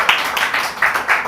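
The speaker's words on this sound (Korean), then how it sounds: "환영의 박수 부탁드립니다" An audience at a seminar claps to welcome a pastor to the stage, a brief, dense patter of many hands in an indoor hall with slight swells in intensity and no voices over it.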